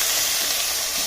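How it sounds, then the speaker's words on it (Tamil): Chicken sautéing with onion and tomato in a hot pan for Andhra-style gongura chicken, giving a loud, even, close sizzle with a steady hiss throughout. "சிக்கன் வந்து கொஞ்சம் வதங்கட்டும்."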